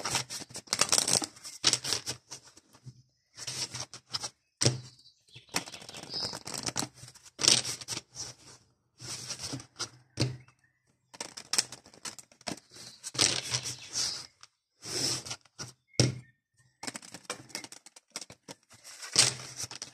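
A deck of cards is shuffled in quick bursts for a reading, giving papery riffles and flicks that come in repeated clusters with short pauses, close and fairly loud, with no talking.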